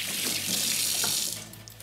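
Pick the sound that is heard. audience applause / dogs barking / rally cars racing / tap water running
tap water running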